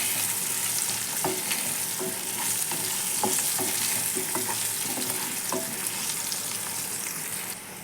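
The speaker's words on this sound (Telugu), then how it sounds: "ఫస్ట్ మనము బంగాళదుంప బాగా వేయించుకోవాలి" Diced potatoes fry with turmeric in a pan, giving a steady close sizzle throughout while a spoon scrapes and taps the pan at an irregular rhythm; nobody speaks.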